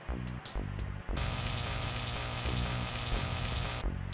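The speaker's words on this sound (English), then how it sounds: "the static energy you built up discharged, frying Lard Boy's circuitry" In Space Quest VI, built-up static energy discharges and fries a robot's circuitry: a few sharp clicks, then a continuous crackling, buzzing sizzle lasting about three seconds before cutting off.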